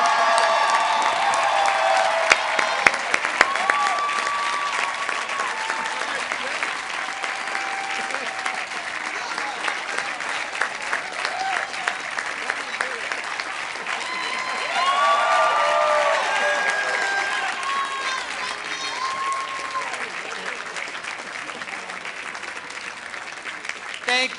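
Sustained applause from a large audience at the Johns Hopkins University 2015 commencement ceremony, steady clapping lasting throughout with a slight swell midway and faint voices mixed in.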